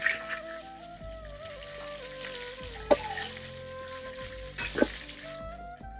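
Chicken meat fries in hot oil with a soft, steady sizzle under clattering utensils and a few sharp knocks, heard close and fairly quiet.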